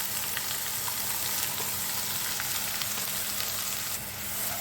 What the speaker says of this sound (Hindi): अब प्याज को हम गोल्डन ब्राउन होने तक फ्राई करेंगे